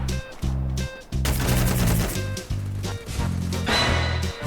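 Rapid automatic gunfire in a video game shooter, dense bursts of loud, close shots rattling in quick succession with brief pauses between volleys.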